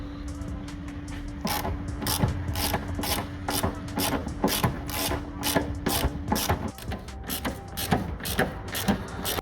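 Hand ratchet working on bolts of a 2008 Toyota Yaris rear axle: quick, close, rhythmic clicking strokes repeating steadily over several seconds, with faint metallic rattles between bursts and no talking.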